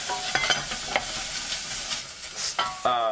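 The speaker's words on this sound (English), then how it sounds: "Stir fry until all the vegetables come up with a very nice flavor" Carrot, gobo burdock root and shiitake stir-fried in hot vegetable oil, a steady sizzle broken by repeated scraping and clacking of a utensil against the pan, close and alone.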